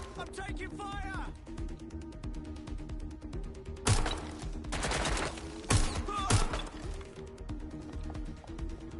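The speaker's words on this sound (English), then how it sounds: "I'm taking fire!" Bursts of gunfire crack through Watch Dogs Legion gameplay, several loud sharp volleys and rapid shots set against a background hum, with characters speaking in between.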